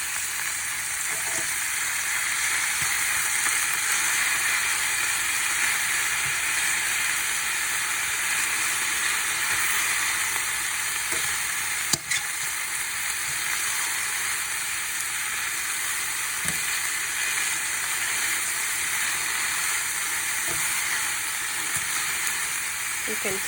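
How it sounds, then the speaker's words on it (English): Salted beet greens fry in a pan with a steady, loud, continuous hiss and sizzle, close up and unbroken for the full length, with only faint clicks and no talk. "You can tell the greens are cooking pretty quickly."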